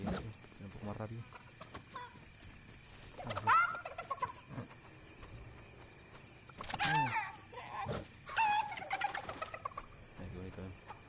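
A chicken in the Fortnite video game clucks and squawks in several bursts, some sharp and loud, others shorter, over steady game background noise with someone speaking intermittently.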